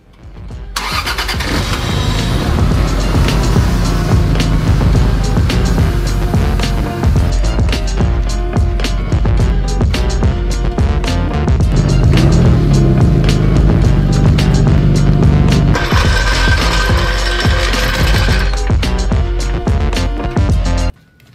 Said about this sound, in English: I'm gonna reverse the car back in